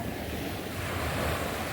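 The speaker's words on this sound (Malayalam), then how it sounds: "വലിയ കടൽ മുകളിലല്ല, ചെറിയ തിര ഉള്ളൂ" Small sea waves wash onto a beach in a continuous soft rush, with light wind noise on the microphone and no voices.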